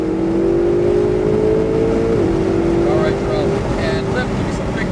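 A Ferrari 488 GTB engine hums steadily as the throttle is rolled on, its tone rising and then dropping around a shift, with a voice talking over it throughout.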